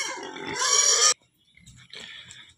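Pigs penned in a small enclosure on a farm give a loud, harsh squeal lasting about a second, followed by quieter grunts and snorting close by.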